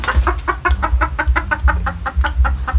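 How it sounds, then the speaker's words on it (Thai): A young white-eared junglefowl rooster gives a rapid series of close, short clucks in a steady rhythm, with no talk over it. "อันนี้เป็น ไก่หนุ่มหูขาวนะครับ"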